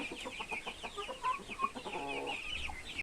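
Chickens clucking close by, a series of short throaty calls with some higher bird notes over a steady farmyard background.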